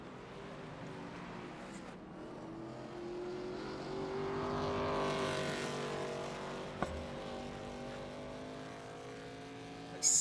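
An ARCA race car doing burnouts at Atlanta in a NASCAR racing video game, a sustained engine drone that swells into a long rising roar, then holds steady with a sharp click near the end.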